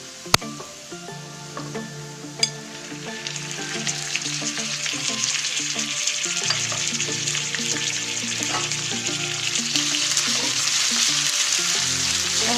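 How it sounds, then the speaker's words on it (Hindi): Minced meat frying with browned onions in a pan for keema matar, a steady close sizzle that builds louder over time, with occasional clinks of a spoon stirring and no talk. "और प्याज के साथ कीमे को भी फ्राई करूंगी"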